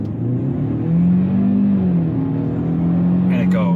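A turbocharged car accelerates hard from inside the cabin, its engine note climbing steadily in pitch as the throttle is held, a sustained loud drone with a brief tonal flutter near the end.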